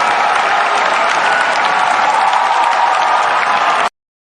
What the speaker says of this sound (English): there's our applause